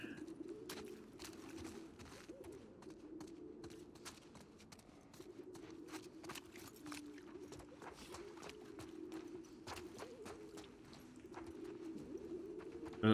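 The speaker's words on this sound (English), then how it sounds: "There's a lot of pigeons up here." Pigeons coo softly in a game environment from The Last of Us Part II, a steady low murmur of cooing continuing throughout beneath faint ambient clicks and rustles, with no talking.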